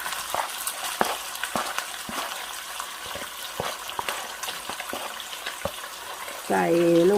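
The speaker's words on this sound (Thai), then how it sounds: "ตอนนี้กระเทียม เริ่มเหลืองแล้วนะคะ เดี๋ยวปูก็จะใส่แฮมลงไปนะคะ" Ham is added to garlic frying in a pan: scattered crackling pops over a soft sizzle, then a louder, thicker sizzle near the end with a voice briefly heard.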